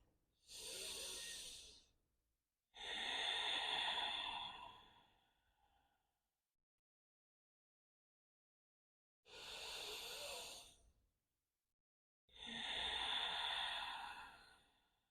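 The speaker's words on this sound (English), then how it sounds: "Notice the air moving in and out of the nostrils." Slow breaths move in and out through the nostrils during a yoga practice: two inhale-exhale pairs, each a soft airy rush, separated by a long silence, close and without talking.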